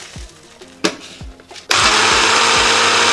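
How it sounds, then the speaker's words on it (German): A kitchen blender grinds oat flakes into oat flour. A few short clunks come first, then the motor roars to a loud, steady whir that holds to the end. "Ganz wichtig bei meinem Porridge of Love ist natürlich auch der Mixer, denn hier schredder ich die Haferflocken zu Hafermehl."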